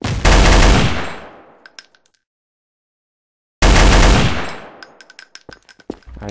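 Two loud bursts of AK rifle fire in a first-person shooter video game, each a rapid volley of sharp shots that rings out and decays, separated by a second of silence, with scattered clicks and smaller shots trailing the second burst.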